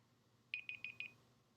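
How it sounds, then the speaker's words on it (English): A kitchen timer beeps four times in quick even pairs of chirps, then one more starts at the end, thin and high-pitched against a quiet room. "That was the timer."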